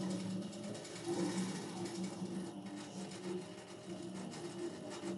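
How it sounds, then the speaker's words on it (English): A computerized quilting machine stitches across a quilt with a steady, continuous mechanical hum and rapid needle chatter, loud and close, running without pause throughout and with no talking. "It's going to go to my starting point and proceed to stitch."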